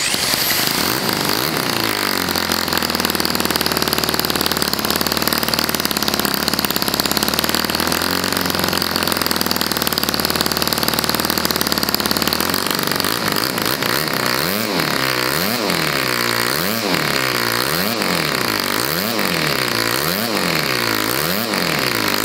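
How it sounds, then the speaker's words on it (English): A small high-revving rotary-valve model engine runs continuously with a loud buzzing drone, its pitch rising and falling repeatedly as the throttle is blipped. "You can see it runs and the throttle response is also good"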